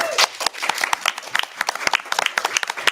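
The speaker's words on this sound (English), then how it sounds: "a huge round of applause to all the staff, volunteers who are making this festival happen" Audience applauding staff and volunteers at Canada's largest free literary festival, a dense run of many hands clapping with sharp irregular claps throughout, fairly close and steady, no talk over it.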